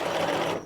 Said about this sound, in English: So we're just going to do a quick basting stitch around.